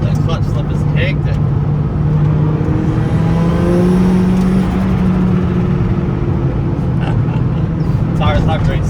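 Interior of a budget Lancer Evo conversion with a turbocharged 4G93 SOHC engine on a road trip, a loud steady drone as the clutch slips and then grabs, with voices talking over it.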